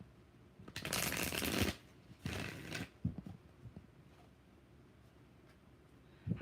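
Tarot cards are shuffled up close in two or three brisk riffling bursts, then quieter handling and light taps on the deck.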